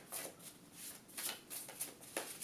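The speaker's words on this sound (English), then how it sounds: "I'm shuffling them now." Soft, papery riffling bursts repeat every half second or so, like a deck of cards being shuffled close by, quiet and with no voices.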